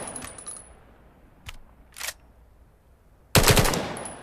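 An AR rifle firing in the Vail VR game: a few sharp separate shots, then a loud burst of rapid fire near the end, with mechanical clicks between, no talk.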